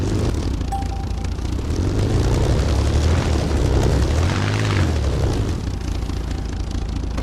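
A Spitfire plane taxis in the DayZ video game, its rumbling engine drone holding steady and swelling in the middle, loud and continuous.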